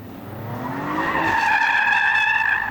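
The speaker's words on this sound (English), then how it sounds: "See if this car can do a sort of donutty thing." An Audi RS5 doing donuts on a track in its RS Torque Rear mode, tires squealing in rising, wavering tones over a low engine drone, loud and close and building into a sustained skid.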